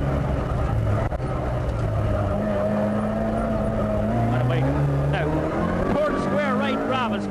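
A Mark II rally car races along a stage, its engine droning loudly and continuously with shifting pitch as it revs and changes gear, while a commentator speaks over the noise.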